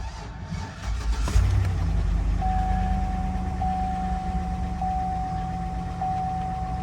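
Truck with a 5.3 engine at a Copart auction lot cold-starting, a brief crank then a steady idle with light clatter, a repeated high beep running alongside.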